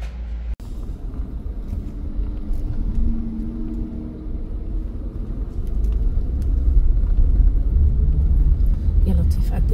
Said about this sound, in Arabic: رح كمل سواقة السيارة